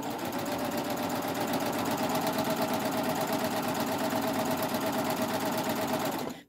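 Baby Lock 8-thread serger stitching a knit fabric hem, a fast, even mechanical whirr running steadily close up, then stopping at the end.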